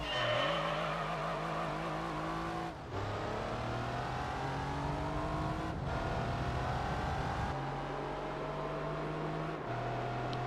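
A Dodge Viper GTS in Gran Turismo 3 runs an acceleration and braking test: a loud, close engine climbs in pitch through each gear, with abrupt drops at the shifts and a short rise-and-fall at the end.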